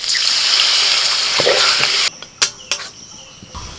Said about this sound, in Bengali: এবার আমি একটু সিদ্ধ হওয়ার জন্য জল দিয়ে দিচ্ছি